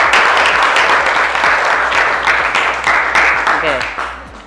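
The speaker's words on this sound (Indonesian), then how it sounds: "beri tepuk tangan untuk Stasia" Classroom audience claps for a student in a school lesson, a dense, steady patter of many hands that runs the whole time and tapers slightly at the end, with some voices mixed in.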